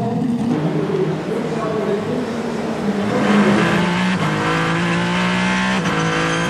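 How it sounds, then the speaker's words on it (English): Kessel Racing Ferrari race car driven by Antonio Fuoco at the 2023 24 Hours of Le Mans, heard onboard: a loud, steady engine drone that climbs in pitch as it accelerates, with commentary voices over it. "On board with Antonio Fuoco. That is the Kessel Racing Ferrari"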